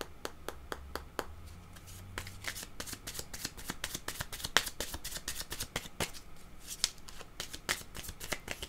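Shuffling a deck of cards for a card reading: a steady run of crisp, close riffles and flicks, fairly quiet, with no talk over them.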